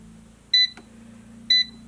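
An Omorc air fryer gives two short, bright electronic beeps about a second apart, close and clear, with a small click between them over a low hum.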